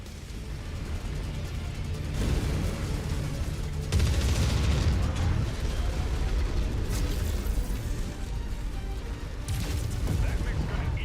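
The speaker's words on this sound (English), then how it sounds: "Nothing like a nuclear explosion to keep people alive and safe and happy." A nuclear explosion in the video game MechWarrior 5: Mercenaries sets off a sustained, loud, rumbling blast with heavy low boom that swells around the midpoint and keeps roaring through to the end, with battle noise mixed in.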